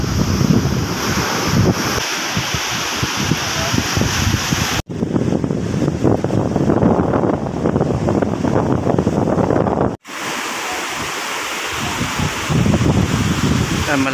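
Strong wind roars across the microphone on a fishing boat at sea over crashing waves in light rain, a loud steady rush broken by two brief cuts.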